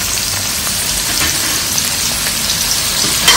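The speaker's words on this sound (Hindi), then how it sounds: "इसके अंदर अभी जो बारीक बारीक चॉप किए वो प्याज डाल दूंगी।" Finely chopped onion frying in a pan for dhaba-style palak paneer, giving a continuous, even, rain-like hiss of sizzling oil up close with only faint stirring.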